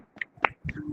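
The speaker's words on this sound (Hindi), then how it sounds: "मैं ताली बजाऊंगी।" A handful of sharp, quiet hand claps at a Saturday prayer service, spaced unevenly within a second, against an otherwise near-silent background.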